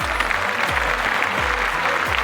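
Studio audience on a travel game show clapping steadily, a dense continuous wash of applause from a nearby crowd.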